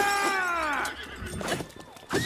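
A horse neighing in The Legend of Zelda: Breath of the Wild: a descending whinny at the start, followed by thumps and clattering combat noises.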